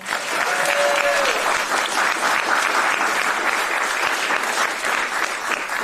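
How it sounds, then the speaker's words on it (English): Sustained applause from a rally crowd in western Wisconsin, a dense, loud wall of clapping filling the whole stretch, with a brief tonal whistle-like sound near the start. "So, yes, please, let's applaud that."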